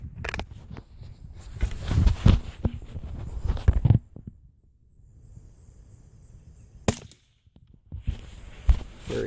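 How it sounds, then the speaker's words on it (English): CCI CB .22 subsonic rounds fired from a rifle make a few soft, sharp cracks, quiet and close, each followed by a faint impact sound. "So let's shoot a few rounds, shall we?"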